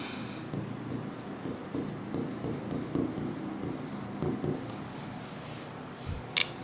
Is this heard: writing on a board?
yes